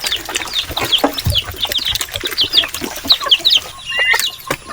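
Many native chickens cluck and chatter together in a busy, continuous flock, with occasional sharper calls, close and fairly loud, no voices.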